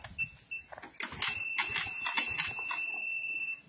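A Yamaha Mio Soul i 125 motorcycle's two-way anti-theft alarm sounds with piercing high electronic tones and rapid chirping pulses, loud and steady, with some clicking at the start.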